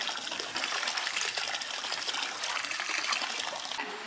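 Water gushes hard from a pipe after a breaker swap, a steady, loud, broadband rush that holds constant from start to finish with no voices over it.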